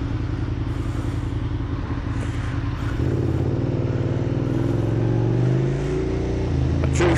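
A dirt bike engine idles and runs steadily on a cold day, with a loud, continuous low rumble that rises slightly in pitch partway through, and no voices.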